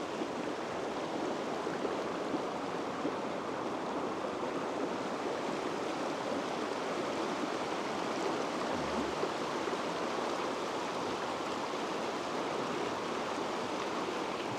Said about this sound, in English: just enjoy the sound of the creek.